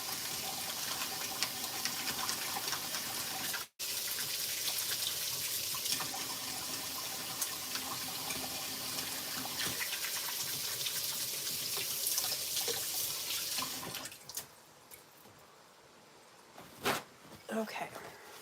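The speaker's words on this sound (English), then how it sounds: "I'm gonna wash my hands" Hands are washed under a running kitchen tap during a baking session, a steady close rush of water that lasts about fourteen seconds, then cuts off and leaves a few soft knocks and handling sounds.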